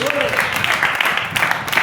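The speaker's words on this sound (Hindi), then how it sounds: "क्या आप ताली दे सकते हैं?" A church congregation claps in dense applause at a sermon, a busy crackle of many hands with a voice speaking over it.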